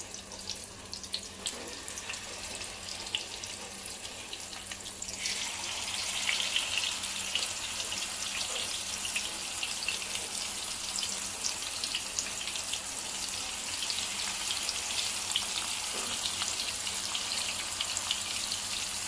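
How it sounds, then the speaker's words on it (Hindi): Fish fries in a medium amount of oil in a frying pan, a continuous close hiss and sizzle that grows louder partway through as more sputters and crackles join in. "मीडियम तेल लेके फ्राई करती हूँ।"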